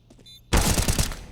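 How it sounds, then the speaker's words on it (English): Loud, dense burst of automatic gunfire in Counter-Strike CS:GO during a pro match, erupting suddenly after a quiet moment and rattling on rapidly to the end. "he just ran out of bullets towards the end there, Yabby, and couldn't find that last kill."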